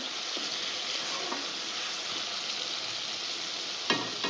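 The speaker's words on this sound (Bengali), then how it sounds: "খুললাম, টমেটোটা নেড়ে দিচ্ছি।" Tomato fries in a pan of mustard-based fish curry, giving a loud, steady sizzle close by, with light stirring scrapes and a sharp clink near the end.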